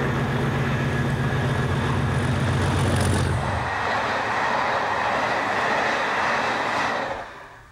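British Rail Class 37 diesel locomotive in large logo livery hauling a train, loud and close, with a heavy low engine drone and rumbling wheels that ease off after a few seconds into steady rolling rail noise, fading at the end.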